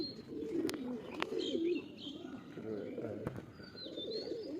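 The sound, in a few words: female pigeon cooing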